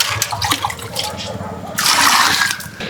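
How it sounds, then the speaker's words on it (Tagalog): Water gushes and splashes as a container is filled at a riverside pay bathroom and rinse station at Bitbit River in Norzagaray, Bulacan, loud and close, swelling midway, with a voice speaking over it. "Kakarga lang ako ng tubig."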